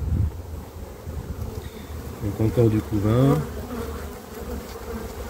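Honey bees buzz steadily at a hive, a dense close drone that swells in the middle, while someone speaks briefly over it.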